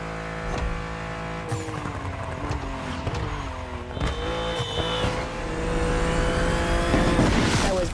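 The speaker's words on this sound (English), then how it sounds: "BMW M2 CS, a legend in the making." BMW M2 CS engine in The Crew Motorfest, revving loudly through rising and falling gear changes with tire squeal, growing louder toward the end with no talk.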